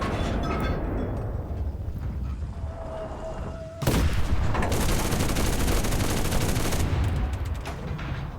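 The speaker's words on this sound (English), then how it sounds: "Firing a machine gun." Machine gun fire from a Pz III J tank in the game Enlisted, dense rattling bursts with a brief lull and then a loud sustained stretch of rapid fire, close and continuous.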